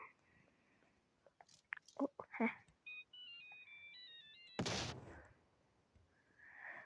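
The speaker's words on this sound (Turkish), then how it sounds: "bu yapışkan bombanın patlama sesi" A short electronic beeping melody, like a phone ringtone, plays after some clicks, then ends in a sudden sharp sticky bomb explosion in PUBG Mobile.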